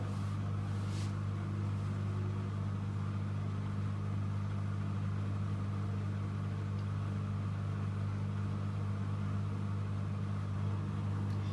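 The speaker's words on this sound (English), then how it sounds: "So you can see on the display it says rinsing plus spinning, which I love about this machine." A Bosch Serie 8 WAYH8790GB washing machine on a 60° cotton SpeedPerfect cycle rinses and spins, giving a steady low mechanical drone with a faint swish throughout.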